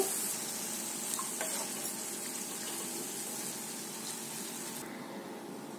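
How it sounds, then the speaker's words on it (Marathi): Water poured into a hot pan of makul (squid) with potatoes makes a continuous hissing sizzle and bubbling, fairly loud, easing slightly and then dropping in the last second. "आता याच्यामध्ये थोडं पाणी ओतते"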